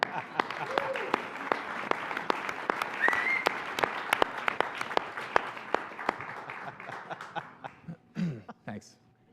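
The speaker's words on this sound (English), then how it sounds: "can we just another round of applause for you?" A modest audience at a financial services launch event claps in sharp, distinct, fairly sparse hits that thin out and stop, followed by a few chuckles and brief talking near the mic.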